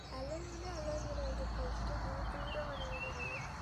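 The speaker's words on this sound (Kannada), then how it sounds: "ಪಕ್ಷಿಗಳ ಸೌಂಡು." Outdoors among hills with streams running everywhere, faint birds whistle in thin, gliding phrases above a low, steady rush of flowing water and a cold breeze, with no voices present.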